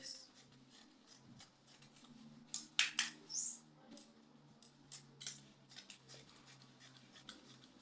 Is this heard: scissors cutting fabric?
yes